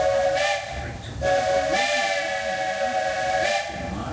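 A Walt Disney World Railroad steam locomotive sounds its whistle in several loud, sustained blasts with short breaks between, over a steady background hiss of steam.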